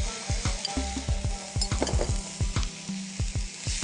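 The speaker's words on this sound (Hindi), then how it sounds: "चिकन कीमे को आप पैन में डालकर इसको अच्छी तरह भून लें" Chicken mince sizzles steadily in a hot pan while a spoon stirs it in a quick, regular scraping rhythm, close and clear with no talking.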